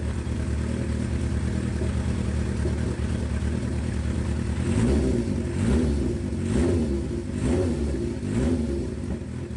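An old project motorcycle's engine rumbles steadily after a cold start, then is blipped with several throttle revs in the latter half, each rising and falling, close and loud.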